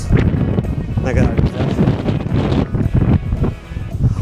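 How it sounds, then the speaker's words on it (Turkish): Strong wind buffets the microphone in a constant loud rumble at the seaside near Behramkale (Assos), Turkey, with choppy sea, while a person speaks briefly over it. "Aşırı rüzgar var bugün."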